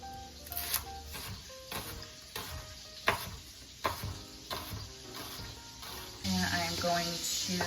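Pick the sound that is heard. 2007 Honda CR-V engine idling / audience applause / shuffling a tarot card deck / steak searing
steak searing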